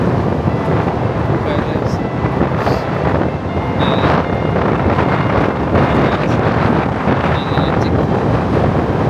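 Strong wind buffets the microphone on a sandy seashore in Wales, a steady loud roar filling the whole stretch with brief faint whistles and distant voices of children playing.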